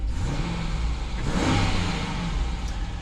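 A 2020 Jeep Grand Cherokee Limited X engine revs, a loud, close, continuous roar that swells toward the middle and then holds at a steady drone, with no talking.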